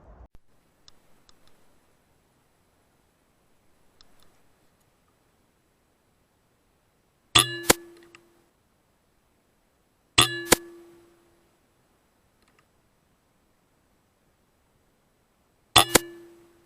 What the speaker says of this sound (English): we're gonna shoot some targets, get warmed up